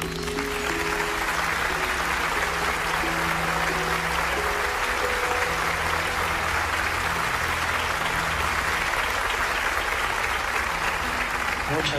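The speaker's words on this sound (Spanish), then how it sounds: "Les pido también un aplauso muy caluroso para nuestro amigo y compañero Jacques Méliès." Dense, sustained applause from an audience welcoming a speaker, a steady wash of clapping throughout with a voice and low background tones running beneath it.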